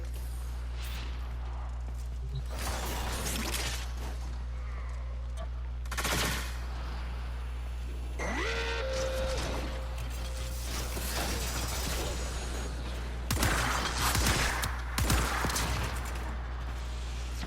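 Gunfire in the shooter game Warframe, with sharp bursts of shots and mechanical clacks scattered over a steady low drone, moderately loud with brief lulls.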